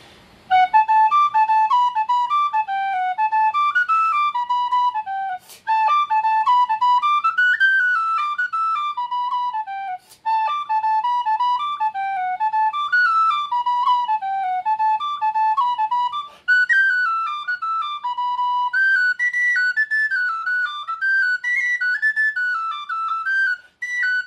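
A tin whistle plays an Irish jig alone, its bright, clear notes running in lilting uneven triplet groups with brief pauses between phrases, close and steady for over twenty seconds.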